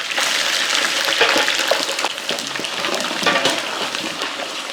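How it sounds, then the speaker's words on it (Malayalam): Sliced ginger and garlic sizzling in hot oil in a pan while being stirred, a steady loud crackling hiss with scattered scraping clicks for pickle preparation. "ഒന്ന് ഇളക്കി കൊടുത്ത് ഇഞ്ചി വെളുത്തുള്ളിയൊക്കെ ഒന്ന് മൂപ്പിച്ചെടുക്കണം"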